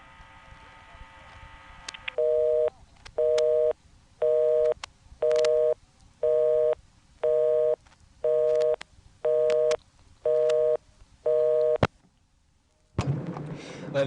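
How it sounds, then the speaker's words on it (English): Reorder tone from an ITT Pentaconta crossbar switch in Asheboro, North Carolina, 1986: ten steady, evenly spaced beeps at a fast on-off rhythm, clear and close on a phone line, followed by a click and line noise. "I dialed a 629 number that went to a reorder"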